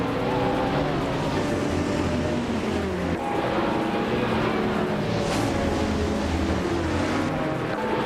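A 2009 Pagani Zonda R race car engine in a racing game on the Indianapolis F1 reverse track: loud, sustained revving drone with shifting pitch from gear changes.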